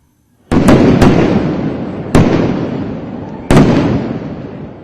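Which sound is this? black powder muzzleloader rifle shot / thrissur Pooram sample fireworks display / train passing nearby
thrissur Pooram sample fireworks display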